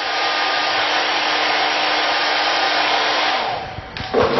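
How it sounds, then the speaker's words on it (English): A blow dryer runs loud and steady while warming an eyelash curler, a constant close whooshing hum that drops and shifts near the end as it is moved or switched off. "I use my blow dryer to warm up."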